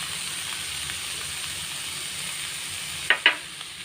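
A broken egg goes into a hot pan and fries with a steady, close hiss, and two sharp clatters near the end.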